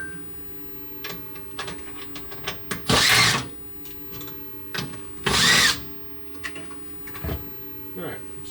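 A power drill backs the screws out of a light fixture during an LED retrofit kit install, two short, loud whirring bursts separated by quieter handling noise, with someone talking in between.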